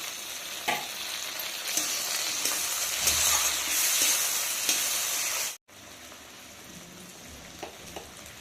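Cut tomatoes dropped into a hot pan with browned onions for a rohu fish curry, sizzling in a loud, steady hiss with a few clinks, then cutting off sharply to a quieter crackle.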